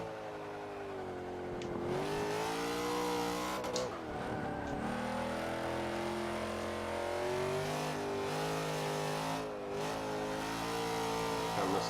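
A racing video game car engine revs and accelerates continuously, its harmonic whine rising and falling through gear changes, loud and close throughout.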